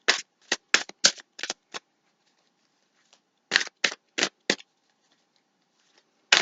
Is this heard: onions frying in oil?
no